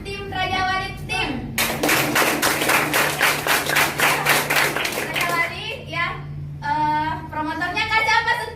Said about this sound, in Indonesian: Kasih aplaus guys.